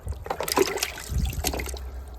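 Water trickling and splashing as it drains from a hanging four-month-old rabbit carcass, an irregular nearby dribble with small gurgles lasting about two seconds, no voices.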